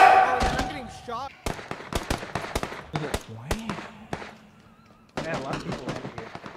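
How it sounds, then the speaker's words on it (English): Sharp gunshot cracks from the battle royale game PUBG, scattered single and rapid shots in irregular bursts, close and punchy, with a player's voice speaking between them. "Oh, man, I'm getting shot."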